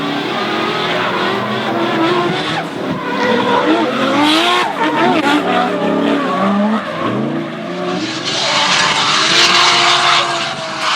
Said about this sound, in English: Darren Kelly and Zach Pohl put on a battle of Nissan RB engines at full throttle.